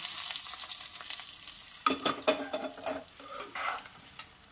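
Bottle gourd (lauki) being stirred in a wok with tempering spices added, giving a soft sizzle and scraping stirs that pick up in the second half, close and moderately quiet with no talk.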